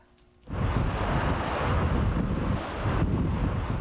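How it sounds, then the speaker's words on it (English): Strong Santa Ana wind gusts roar in the Inland Empire, a loud, sustained blustery rush that starts abruptly and buffets the microphone steadily, with no voices. "It was the kind of wind you just couldn't get away from."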